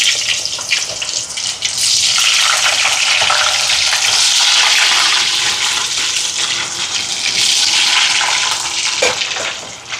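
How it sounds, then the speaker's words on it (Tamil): Potato pieces frying in hot oil, giving off a loud, continuous bubbling sizzle that flares up after a quieter start and then keeps crackling steadily. "இப்போ உருளைக்கிழங்கு பொரிச்சு எடுப்போம்"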